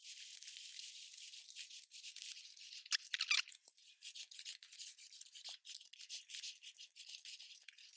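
Paper prompt cards are shuffled by hand at close range, giving soft, rapid riffling and rustling with a few crisper flicks, quiet and continuous with no voices.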